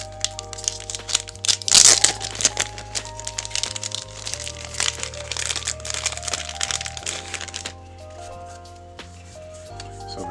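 Plastic packaging on a One Piece TCG starter deck is cut and torn open, a sharp crack followed by crinkling and crumpling, close and fairly loud over a steady low background hum.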